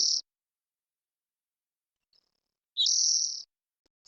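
Bird song played back from a device, heard as a short high chirp at the start and then a sustained bright trilling phrase of under a second, clear and fairly close against an otherwise silent background.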